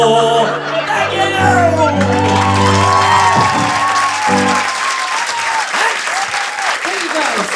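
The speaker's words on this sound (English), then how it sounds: "Good little smattering of applause there on the Fitbit joke" Comedy club audience bursting into applause after a joke, steady clapping with a few whoops and shouts throughout, while a voice sings or talks over the start.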